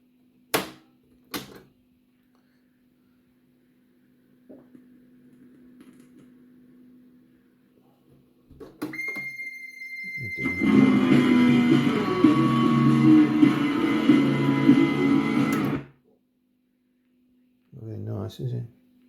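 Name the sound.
Thorens TD 115 turntable motor making a horrible noise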